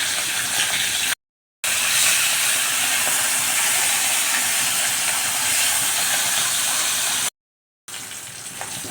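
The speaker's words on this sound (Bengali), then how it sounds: "ইলিশ মাছের মাথা এবং কাটা দেওয়া হয়ে গেলে কড়াইতে একটু ভালো মতো ভেজে নিতে হবে।" Hilsa fish head and bones fry in oil in a wok, giving a loud, steady hiss that runs throughout, broken by two short silent gaps.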